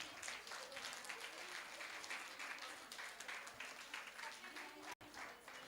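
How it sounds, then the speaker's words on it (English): Applause at a school faculty development program: a group clapping steadily and continuously at moderate level, with faint voices mixed underneath. "A big round of applause, friends."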